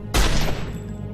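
A burst of gunfire from an attack in the video game Marvel Avengers Alliance: one loud, sharp blast that opens abruptly and fades into a short rumbling tail, with no talk.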